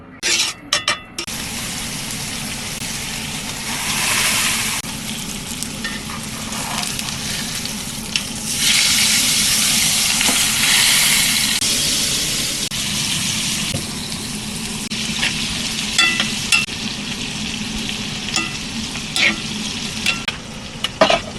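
Loud, continuous sizzling and crackling of hot oil splattering as steak and black pepper beef fry in a pan in an RV, with surges of spitting and occasional clatter of stirring, no talk.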